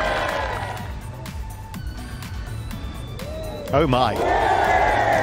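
Spectators at the 2023 Amundi Evian Championship final round cheer as a putt drops on the fifth hole. A roar swells suddenly late in the moment and stays loud, with a commentator speaking briefly beforehand.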